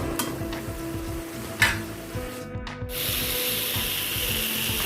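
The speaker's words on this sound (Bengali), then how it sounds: "এবার এই মশলাটার সঙ্গে আলুর সঙ্গে ভালোভাবে কষিয়ে নেব।" Spice paste and potatoes are stir-fried in a pan with rhythmic, repeated scraping over a hiss, and the sizzle grows fuller and steadier partway through. No voices.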